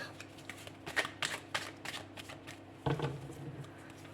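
Tarot cards are handled and shuffled during a card reading: a run of crisp, close riffling flicks, then a single louder slap as the cards are gathered.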